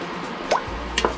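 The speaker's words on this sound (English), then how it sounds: "1 cup of coconut cream." Coconut cream goes into a cooking pot for a cauliflower and spinach curry, heard as a couple of soft, wet drips and plops, brief and close.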